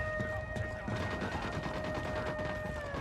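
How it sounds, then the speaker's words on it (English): Rapid gunfire in the video game Ghost Recon Wildlands, dense bursts of shots crackling continuously throughout over a steady game soundtrack background. "I'm opening fire."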